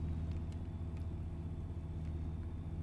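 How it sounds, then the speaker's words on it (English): A damaged car engine in the video game 007 First Light gives off a low, steady rumbling drone with faint rattles on top, fairly quiet. "don't think the engine should be making those noises."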